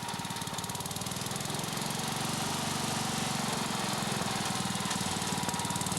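A crack sealer tar pot's engine runs steadily at a constant pace, a loud continuous mechanical drone with a rapid knocking pulse and no voices.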